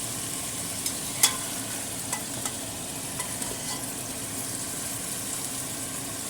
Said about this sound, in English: Then add in sesame seeds. Stir fry about 20 seconds.